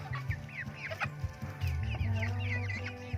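Rhode Island Red chickens cluck close by in a farmyard, several birds overlapping in a steady, busy chorus of short calls and murmurs.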